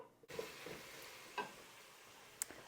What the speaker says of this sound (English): so my bacon is frying